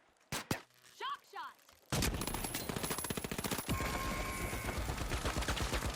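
Rapid gunfire bursts from a stun gun in The Finals video game, a dense, loud stream of repeated shots after a few isolated pops and a short voice.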